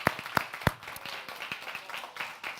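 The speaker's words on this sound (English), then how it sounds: "Give our veterans a big round of applause." Audience clapping for veterans at an event, faint and sparse, with a few sharp individual claps followed by a scattered patter of applause.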